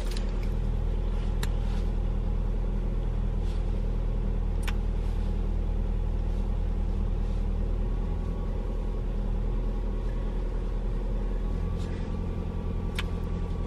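A car engine idles steadily while warming up, a constant deep rumble heard from inside the vehicle with a few faint clicks and no change in revs throughout.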